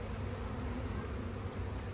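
A dense, constant drone of honeybees swarms around an open spring hive, loud and unbroken from start to finish with no talking.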